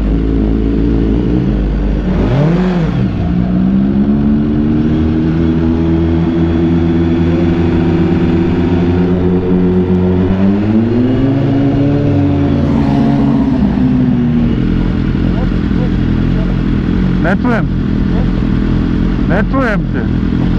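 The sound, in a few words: motorcycle engine running and revving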